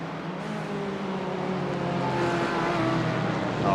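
Race cars at Sebring in the iRacing sim roar steadily, a continuous engine drone whose pitch climbs and shifts as cars run nose to tail; moderately loud with no talking over it.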